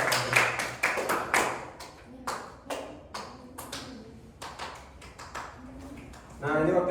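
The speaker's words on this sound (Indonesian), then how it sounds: "berikan aplaus pada Pak Uji" Classroom applause for Pak Uji comes as scattered, uneven claps from a small group, in irregular bursts that thin out over several seconds, with a voice speaking near the end.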